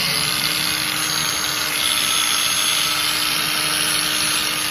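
A cordless electric power tool, a battery-powered cutting and grinding tool for garden and DIY work, runs steadily with a loud, continuous whine and motor hum throughout, close by, with no speech.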